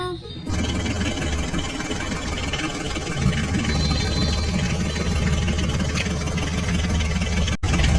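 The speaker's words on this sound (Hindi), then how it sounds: "चलो चलो बच्चों इन ट्रैक्टर गाड़ियों को आगे लेकर चलते हैं" A steady, loud tractor engine rumble runs throughout, a low chugging drone that holds even from start to finish with no pauses.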